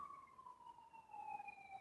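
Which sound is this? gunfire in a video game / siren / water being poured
siren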